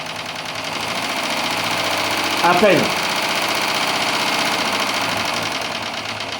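A small steam engine on a model steamboat chugs with a fast, steady rhythm while someone speaks briefly over it, tested in a bathtub.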